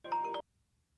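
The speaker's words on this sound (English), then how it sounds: "That's my phone." A mobile phone rings indoors with one short electronic tone, a brief melodic chime lasting under half a second, then quiet.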